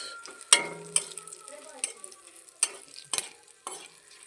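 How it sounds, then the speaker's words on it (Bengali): Khesari dal being stirred with a little turmeric in a frying pan over a low flame, giving soft sizzling under a series of sharp spoon scrapes and taps against the pan. "অল্প একটু হলুদ দিয়ে নাড়বো।"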